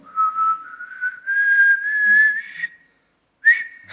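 A person whistles into a microphone, a clean high steady tone that slowly rises in pitch over a few seconds, then pauses before a short final whistle, loud and close.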